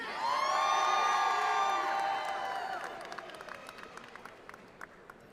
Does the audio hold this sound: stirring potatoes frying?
no